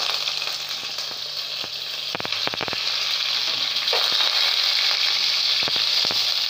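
Ginger, green chili and curry leaves land in hot oil already crackling with mustard seeds and cumin, a bright continuous sizzle that swells louder, with a few sharp spatula taps close by.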